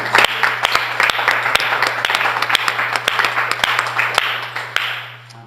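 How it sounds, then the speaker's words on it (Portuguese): A church congregation gives a sustained round of applause at a pastors' gathering, dense clapping running the whole time with sharper individual claps standing out and a steady hum underneath. "uma salva de palmas a Ti"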